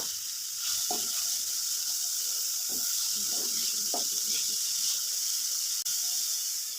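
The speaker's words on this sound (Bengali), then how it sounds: "ক্যাপসিকাম দিয়ে দিচ্ছি, ক্যাপসিকামটাও নেড়ে ছেড়ে নেব একটু।" Capsicum and mixed vegetables such as cabbage and beet stir-frying in a pan for a samosa filling, a steady close sizzle with a few soft scrapes of the spatula, no talk.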